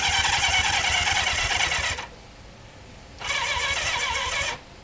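A 1973 Honda CB500 four-cylinder motorcycle with a weak battery cranking over on the starter without catching, two whirring, whining bursts separated by a short pause, close and loud.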